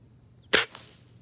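A single sharp crack from a GAMO .177 air rifle firing a Crosman Premier pellet, close and loud, followed by a faint distant smack of the pellet landing, then quiet.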